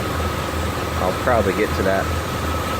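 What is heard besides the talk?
1991 Jeep Grand Wagoneer idling with exhaust leak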